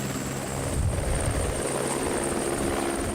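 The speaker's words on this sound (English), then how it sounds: "The new 5-bladed Airbus H145D3 helicopter will support the expansion of Sharqiya Aviation fleet" Airbus H145D3 five-bladed helicopter, a loud, steady rotor and turbine roar with a whining high tone running throughout, close and continuous with no speech.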